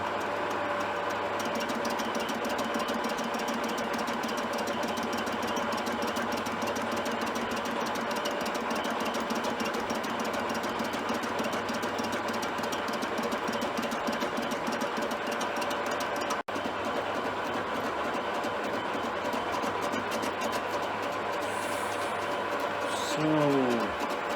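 A Myford Super 7 lathe takes interrupted cuts, a steady loud motorized hum with a rapid rhythmic chatter running continuously for a long stretch, while a person speaks over it.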